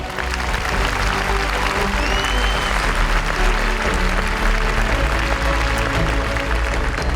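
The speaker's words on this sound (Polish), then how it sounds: "Wielkie brawa!" Dense, loud applause from a large audience honoring the event team at a Guides and Scouts of Europe gathering during World Youth Day in Kraków, 2016, sustained and even throughout.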